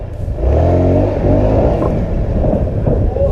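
A Honda Click 150 scooter revs hard while being ridden, its engine pitch climbing and sweeping upward in a loud, continuous rasp close to the listener.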